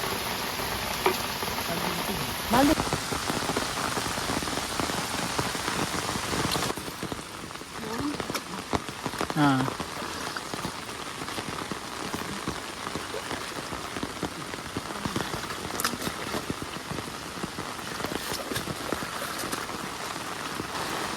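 Heavy monsoon rain pours steadily onto a flooded river, a dense continuous hiss of drops on water with a few brief knocks and faint voices in the background.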